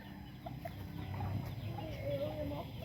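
A small chicken clucking on a farm, soft intermittent clucks close by with low background rumble and faint voices.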